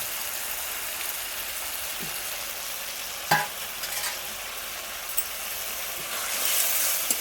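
Spice masala with chopped coriander leaves fries in oil in a pan, giving a constant close hiss with an occasional clunk of the spatula and small crackles and scrapes as it is stirred.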